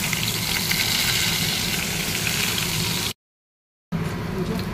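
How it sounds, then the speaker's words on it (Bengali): Pointed gourd and eggplant rubbed with salt and turmeric frying in hot oil, a steady dense sizzle with a low engine-like rumble, briefly cutting out before resuming. "এই যে পটল আর বেগুনি নুন হলুদ মাখিয়ে রেখেছি, ভেজে নেবো আগে।"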